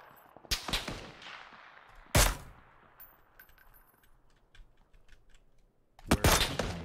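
Gunfire in PUBG: a few sharp, loud shots spread apart, single cracks and a short burst that ring out and fade, with keyboard clicks faintly between them.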